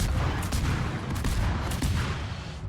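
Naval guns firing from warships in World of Warships, a dense, steady roar of distant booming salvos that blend into a continuous rumbling barrage.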